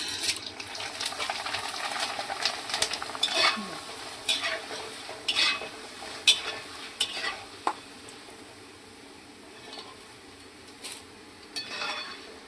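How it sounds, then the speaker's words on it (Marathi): Corn poha flakes frying in hot oil, a soft continuous sizzle with frequent sharp stirring scrapes and clinks against the pan that thin out toward the end, no talking. "आत्ता आहे ना मी हे सगळे मक्याचे पोहे तळून घेतलेले आहे"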